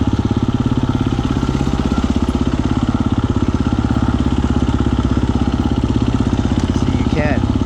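A KTM 350 EXC-F dirt bike in first gear chugs along at low speed, its single-cylinder engine thumping in a steady, rapid, loud rhythm close by without the clutch touched.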